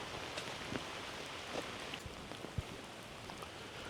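Rain falling steadily in Southern California, a soft continuous hiss with occasional distinct drops and patters, fairly faint and without talking.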